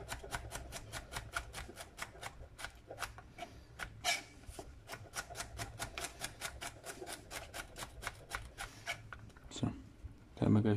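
A knife slices vegetables into fine strips on a cutting board for a vegetable strudel, making a rapid, regular series of short, crisp cutting strokes close by.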